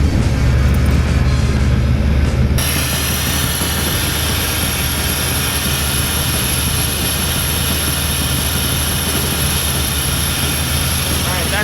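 A Chevy TBI engine with a freshly rebuilt HEI distributor cranks briefly, then catches and settles into a loud, steady, close-up idle.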